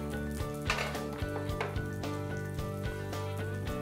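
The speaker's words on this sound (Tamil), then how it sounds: "இப்போ கருவேப்பிலையை சேர்த்துக்கலாம். கொஞ்சம் பெருங்காயம் சேர்த்துக்கோங்க" Curry leaves and asafoetida sizzle and crackle in hot oil in a pan, a steady close frying hiss with light stirring clatter over a low background music bed.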